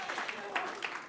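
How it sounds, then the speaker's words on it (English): Audience applause at a Bushwick Book Club mainstage show in Seattle, a short burst of crowd clapping in uneven swells, heard mixed with talking. "should give yourselves a round of applause for joining in on that as well."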